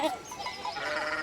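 Sheep bleat in the video game Pentiment, a short run of wavering, moderately soft bleats close together with no talking over them.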